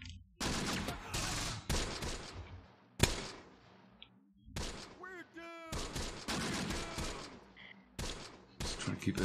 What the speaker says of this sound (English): Keep that suppression fire happening.